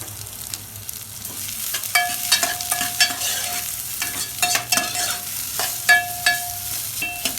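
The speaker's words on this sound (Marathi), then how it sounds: "हे बघा कांदा बी भाजून घ्यायचा चांगला. असा कांदा बोगा करून टाकायचा म्हणजे लवकर भाजत आहे." Onions fry in a pan for a Vidarbha-style chicken curry, with loud close stirring scrapes and clatters over a steady sizzle.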